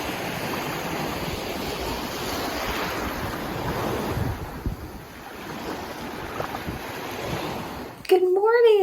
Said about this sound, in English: So I'll give you another look at the water and the waves